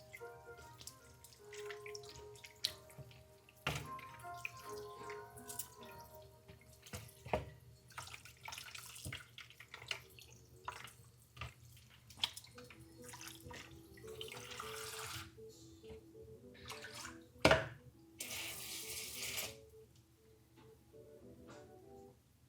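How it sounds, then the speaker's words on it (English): Frozen meat is rinsed under a running kitchen tap, a steady close stream of water splashing over it with brief clatters and a louder gush near the end, and no talking. "Even though my meat is frozen, I am just going to give it a rinse."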